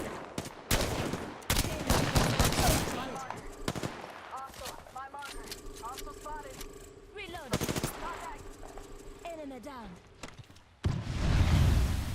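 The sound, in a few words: gunfire in video game Apex Legends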